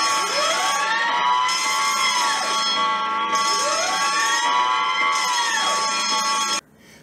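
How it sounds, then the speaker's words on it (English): A loud fire alarm system being tested wails continuously in a repeating rising-and-falling pattern, then cuts off abruptly near the end. "Today is the annual testing of the fire alarm system all day long."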